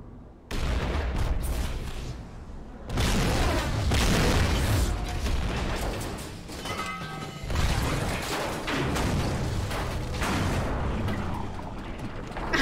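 Detonation in the video game GTA V near a ship, heavy booming explosions that crash in, die back, then burst again in a loud rumbling sequence with crackling debris, sustained and dense throughout.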